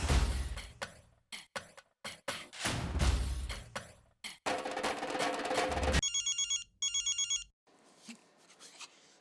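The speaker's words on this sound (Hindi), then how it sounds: "बबीता जी का फोन है, जरा बात करो ना।" A telephone rings in short repeated electronic bursts after a stretch of clattering and rustling noises, then fades into quieter background sound.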